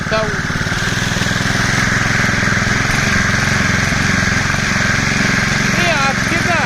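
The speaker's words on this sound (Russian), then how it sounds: "Дай немножко оборотов." Champion LMH 5640 two-wheeled gasoline trimmer engine running loud and steady at raised revs, a continuous buzzing drone held close for the whole stretch, with people talking over it.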